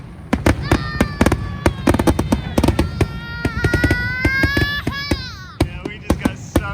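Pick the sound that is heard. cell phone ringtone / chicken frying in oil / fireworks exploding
fireworks exploding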